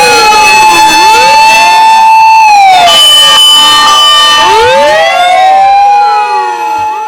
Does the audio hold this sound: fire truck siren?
yes